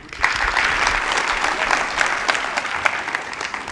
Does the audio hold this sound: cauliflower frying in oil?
no